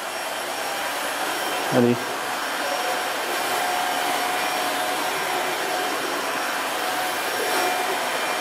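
Dreame H11 Max wet floor vacuum sucking up water, a loud continuous whooshing roar throughout, close up, with a brief spoken word partway through.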